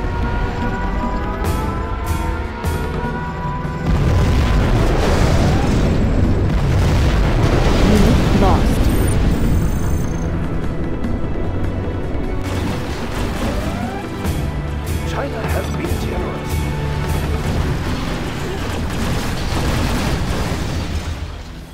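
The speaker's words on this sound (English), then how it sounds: "Launched our nuclear missile." A nuclear missile detonates in the real-time strategy game Command & Conquer Generals Zero Hour, a loud, sustained rumbling blast with crackling debris over roughly twenty seconds, mixed with game effects and a brief voice.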